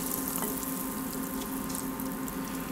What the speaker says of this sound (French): maintenant on n'a plus qu'à frire les cochines